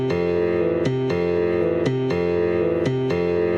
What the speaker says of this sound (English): unmute the grand piano so that it sounds like this